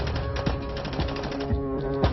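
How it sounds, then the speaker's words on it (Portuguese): Rifles fire rapid automatic bursts during an armed attack on a cash transport company, heard as a loud, distorted, rattling string of closely spaced shots with a few heavier thumps. "Rajadas de fuzil."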